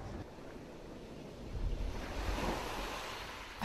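Big sea waves roll and wash in a steady, broad roar, with wind rushing across the microphone and a faint swell toward the end.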